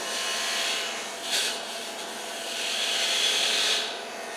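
A woodturning tool cuts into spinning wood on a lathe, giving a steady hissing, scraping rasp that swells twice, close and fairly loud, with no talking.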